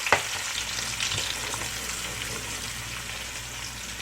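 Onions hitting hot oil in a pot for a Cameroonian-style black bean stew, an initial sharp crackle settling into a steady, dense sizzle that holds throughout with no voices.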